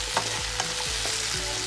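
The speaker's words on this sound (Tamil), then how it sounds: "இப்போ இந்த வெங்காயம் தக்காளியும் வதக்கி விட்டுக்கலாம்." Chopped onion and tomato sautéing in a pan, with sizzling frying and repeated stirring scrapes at a close, even level.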